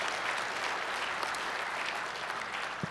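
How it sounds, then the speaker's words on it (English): A large audience at a public transportation conference's opening general session applauds award winners, a steady, full wash of clapping that fills the whole short stretch without any talking. "Let's give them a round of applause"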